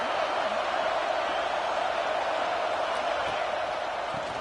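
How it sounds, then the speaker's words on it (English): Steady roar of a football stadium crowd building noise to rally the defense before a red zone stop, a continuous dense wash of voices heard alone at moderate loudness. "And here comes the noise. This crowd is trying to inspire this defense to make a big red zone stop."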